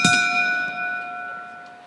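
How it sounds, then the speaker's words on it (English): A boxing ring bell at a professional fight strikes once, loud and close, then rings out with a clear metallic tone that slowly fades over two seconds. "When the bell rings"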